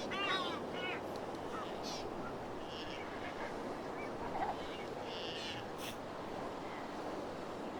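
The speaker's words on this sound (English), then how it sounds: "The din of the birds is a rousing wake-up call" Dawn chorus on Santiago Island in the Galapagos: a steady wash of many birds calling and chirping at once, with a few sharper near calls standing out over the dense background din.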